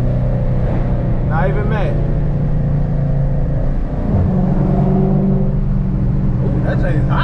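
A Chrysler 300 Hemi on 275 tires pulls hard with a deep, steady engine rumble that fills the clip, while people talk over it inside the car.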